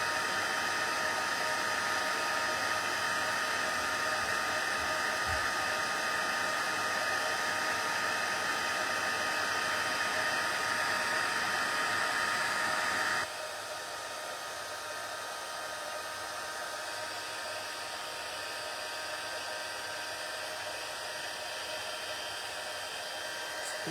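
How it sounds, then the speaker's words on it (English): A heat embossing tool blows hot air over a handmade card in a continuous close whooshing hum, and its level drops partway through while the blowing goes on. "now that it's the tool is hot, all this embossing will happen fairly fast"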